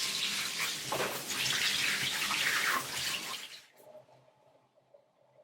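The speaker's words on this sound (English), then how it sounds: "you can also soak it in some soapy water and then rinse it off" Running tap water pours steadily over a Tangle Teezer Wet Detangler hairbrush being rinsed, a loud close splashing that cuts off abruptly, leaving a faint quiet tail.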